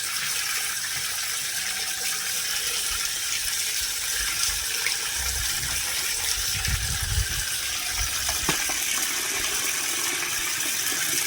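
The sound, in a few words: pouring water to wash raw chicken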